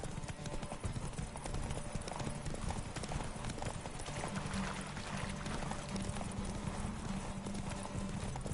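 Geralt's horse Roach trotting in The Witcher video game, hooves clip-clopping in a steady, brisk rhythm that carries on without a break for the whole stretch, loud and close.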